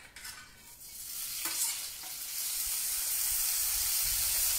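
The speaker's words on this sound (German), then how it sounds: "es brutzelt schon wieder" Food sizzles and crackles steadily on an oiled grill plate of a Napoleon grill, a loud, continuous frying hiss that builds and holds throughout with no voices.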